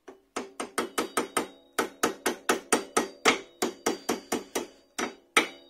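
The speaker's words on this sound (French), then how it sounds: "Un petit peu de marteau." A hammer strikes a metal part on a scooter wheel rim in a steady series of about twenty sharp, ringing taps, close by, with a brief pause partway through.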